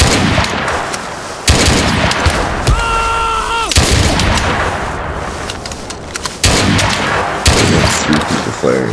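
Loud gunfire from several shooters in a battlefield trench, dense overlapping shots and booms throughout with brief pauses, punctuated by a tonal whistle-like sound midway.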